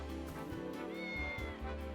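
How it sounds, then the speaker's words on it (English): Cat meowing in the Triangle Strategy video game, a couple of short, clear mews under soft game background music, no talking. "Cat?"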